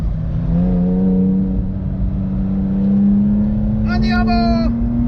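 German sports car accelerating hard on a racetrack at a driving-experience venue in Bridgewater, New Jersey, its engine note climbing steadily in pitch as it builds speed, loud and close, with a brief shout over the engine near the end.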